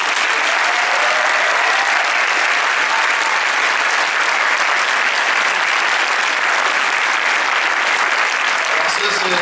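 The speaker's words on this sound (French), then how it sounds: "que je vous demande d'applaudir" Sustained applause from a cinema audience at a film premiere presentation, dense steady clapping filling the room from start to finish, loud and close with no pause.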